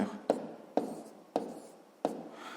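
A pen writes numbers on paper while working out a multiplication by hand, giving four short, distinct scratchy strokes at a steady pace, close and fairly quiet with no talking.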